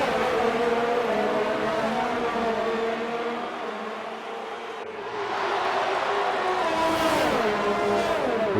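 F1 race cars roar through a racing video game round at the Hungarian track, engines droning loud and steady with rising revs and a brief dip as one car passes, then climbing again.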